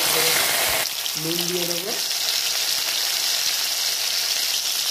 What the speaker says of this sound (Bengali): দিয়ে একটু হালকা করে ভেজে দেবো